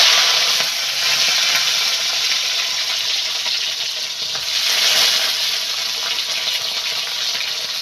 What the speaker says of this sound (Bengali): প্রথমে কড়াইয়ে তেল দিয়ে চিংড়ি মাছগুলো একটু ভেজে নেব।